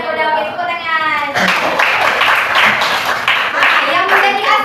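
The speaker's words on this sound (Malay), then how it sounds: "Okey, tepuk tangan." Children in a classroom break into clapping at the teacher's cue during a lesson: a dense, rhythmic burst of hand claps that starts after a brief stretch of talk and continues to the end, with voices mixed in.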